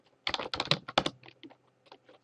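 Password being typed on a computer keyboard at a command line, a close run of quick clicky keystrokes in bursts with short pauses and a few final taps, no voices.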